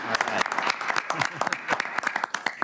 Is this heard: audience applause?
yes